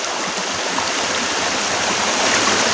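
Water rushes steadily at Adakode Chola waterfall, a loud, unbroken close-up roar that fills the whole moment without any voices.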